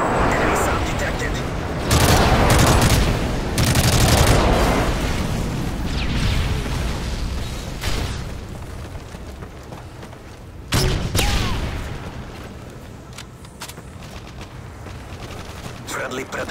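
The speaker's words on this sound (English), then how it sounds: "Airstrike on the way." A Modern Warfare 3 multiplayer match on the Dome map, with heavy airstrike explosions and booms mixed with steady gunfire over roughly sixteen seconds. Loud blasts come in waves, and game voice callouts are heard underneath.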